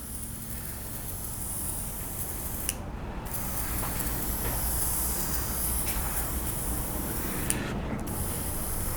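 An airbrush with a partly blocked nozzle sprays in a continuous steady hiss that sputters and spits, broken by two brief pauses, fairly loud and close with no talking.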